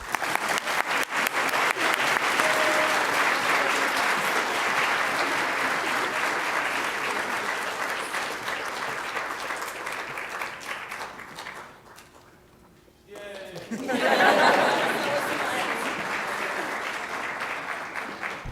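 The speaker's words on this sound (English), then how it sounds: "Give them a round of applause." An audience claps at a senior awards ceremony, steady broad applause that tapers off, dips almost to silence, then swells again in a fresh burst before settling.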